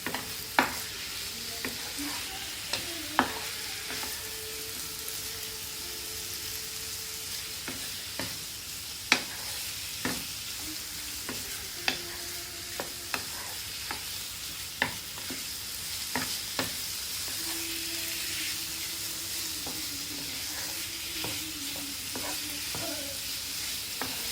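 Meat sizzles gently while being stirred in a frying pan, a soft steady hiss with repeated clicks and scrapes of the spoon against the pan, faint and close, with no one talking.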